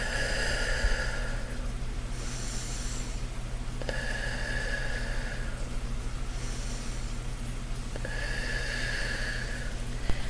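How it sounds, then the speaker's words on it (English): Three slow, deep breaths in a quiet room, each long airy exhale spaced a few seconds apart, soft and close. "First, I'll do three deep breaths."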